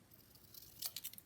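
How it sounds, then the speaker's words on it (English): Scissors trimming paper to make a small craft tag, a quick run of faint, close snipping cuts near the end of a short quiet moment. "With my scissors. And we're going to just trim right there."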